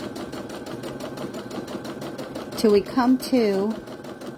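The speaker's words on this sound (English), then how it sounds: "So I'm sewing over it one more time, and I'm going to the edge of my fabric and stop and pivot." A sewing machine stitches fabric in a steady rapid whir for most of the moment, running along the edge of a beginner's book page marker and pen holder project, before a voice starts speaking over the end.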